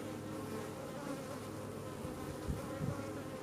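Honeybees buzz around an opened hive frame of capped brood. The drone is steady and dense, with a few louder individual bees passing close by.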